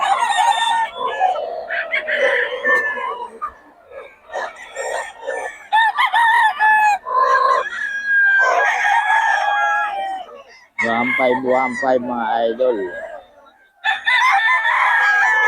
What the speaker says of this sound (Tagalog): Mga manok ni Boss Ray.